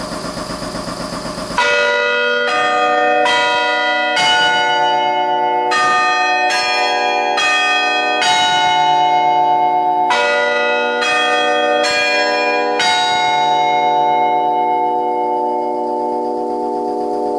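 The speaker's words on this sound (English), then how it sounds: "I didn't shut off the clock, so it's going to chime on us in a moment" A house clock chimes a melodic sequence of bell-like strikes, each ringing note sustaining and decaying into the next, loud and close, with no talking over it.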